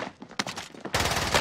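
Gunfire in the Warzone video game, with a few sharp reports followed by a dense, sustained burst of rapid shots, loud and close, with no talking.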